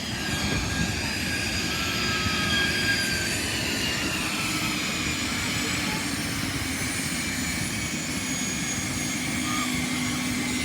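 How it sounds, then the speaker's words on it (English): An airplane taking off, heard as a loud, steady, broadband jet roar with a constant engine whine that fills the whole stretch without letup. "Guys, watch the airplane take off."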